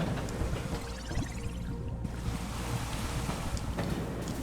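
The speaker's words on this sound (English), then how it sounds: "Acid waterfalls." Acid waterfall in the video game Genopanic roars as a steady broadband rush of falling liquid, continuous and close, with no voices.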